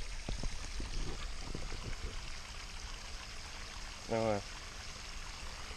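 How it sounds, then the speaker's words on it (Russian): A pump drawing water for an above-ground pool filter rushes in a steady, continuous flow, with some knocking at the start and a short voice-like hum near the end. "Сейчас мы включили насос."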